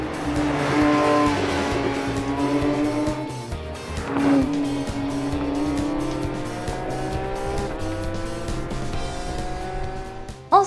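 A Porsche 911 GT3 taken hard through corners, its engine howling and rising in pitch through the gears, loud and near, tyres squealing briefly as speed carries through the bends.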